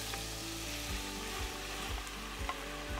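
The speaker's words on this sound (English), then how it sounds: "now that we have our sausage on its way to being browned, and it's browning slightly here, we're gonna add in all of the okra" Okra added to sausage browning over high heat in a pan for a New Orleans style seafood gumbo, crackling and sizzling loudly and continuously up close, with periodic stirring scrapes.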